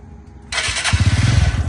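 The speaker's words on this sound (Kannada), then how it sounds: "ಇಂಜಿನ್ ಸೌಂಡ್ ಕೂಡ ಕೇಳಿಸ್ಕೊಳ್ಳಿ" A motorcycle engine cranks and catches, then settles into a loud, steady, throbbing idle close by.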